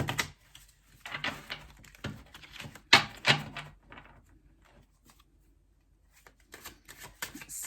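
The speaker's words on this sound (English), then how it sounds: "while I'm shuffling the deck" A deck of tarot cards being shuffled up close, several bursts of riffling and sliding cards separated by pauses, fairly quiet with no talking.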